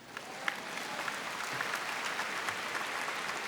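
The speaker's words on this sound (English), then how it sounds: "Round of applause for that," At a Drexel University College of Arts and Sciences commencement, the crowd keeps up an even, continuous applause, moderately distant, with no voices over it.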